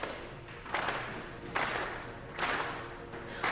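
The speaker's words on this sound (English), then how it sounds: "Why are they clapping like that? Just clap like normal people." A small group clapping in a Riverdale scene, rhythmic bursts of applause-like claps in slow, spaced waves, moderately loud and without talk.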